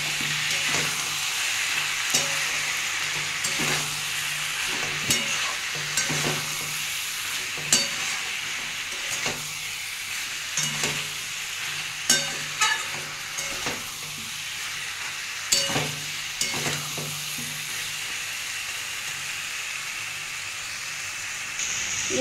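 Fish curry masala with turmeric and salt being sautéed in a pan, a steady close sizzle with repeated scraping stir strokes knocking through it every second or two, no talking.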